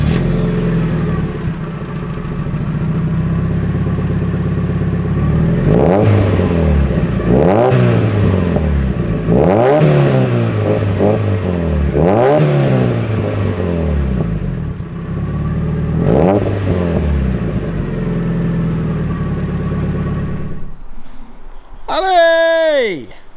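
Big-turbo Mazda MX-5 with a straight-piped 2.5-inch exhaust and custom downpipe, revving repeatedly in loud rising-and-falling bursts, with a brief whistling squeal near the end.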